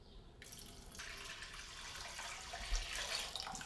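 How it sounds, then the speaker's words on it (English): Water poured into a hot cooking pot to deglaze it after seasoning, a steady rushing splash that swells briefly near the end, with no voices. "And now I'm going to add the water. This is going to help deglaze."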